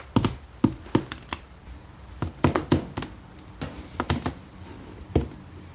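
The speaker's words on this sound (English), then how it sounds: "you want to take some scissors and you want to cut it out" Sharp snipping clicks from scissors cutting material, irregular bursts of several quick cuts with short pauses, close and fairly loud.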